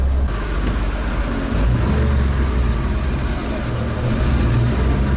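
An all-terrain vehicle pulling away in first gear in swampy terrain near Saint Petersburg, a loud, steady low engine drone with a slight swell in the middle, heard from close by inside.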